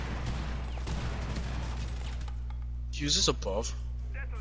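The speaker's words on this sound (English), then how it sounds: "Someone's shooting from over here, just so you know." Bursts of video game gunfire crackle through a busy mix of dense noise, with voices talking over them and a few sharp clicks near the end.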